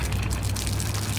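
Water gushes from the outside drain valve of an RV during winterization, a loud, steady rushing pour that lasts the whole moment with no voices over it.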